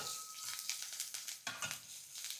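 Onion, dried red chillies, turmeric and coriander sizzling in a hot tempering, a faint soft frying hiss punctuated by quick stirring scrapes, no voices.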